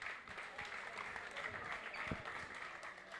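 A small crowd applauds during a Brazilian rap battle event for the Morro da Luz neighborhood, quiet scattered clapping with voices murmuring and chattering throughout.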